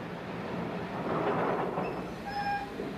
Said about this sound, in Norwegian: der har vi toget av bakken